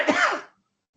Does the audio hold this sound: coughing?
yes